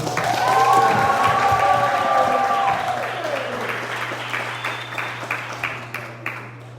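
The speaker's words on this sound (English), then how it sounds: "Make some noise, clap it up for DaBaby" An audience applauds and cheers for DaBaby at a 'Black Lives Been Mattered' panel discussion, a dense burst of clapping with voices over it that thins into scattered claps by the end, under a steady hum.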